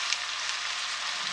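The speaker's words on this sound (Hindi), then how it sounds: "और चिकन को भी अच्छी तरह फ्राई कर लेते हैं इसके साथ।" Chicken frying in a pan with garlic and ginger, a steady, even sizzle throughout, close and moderately loud with no talking.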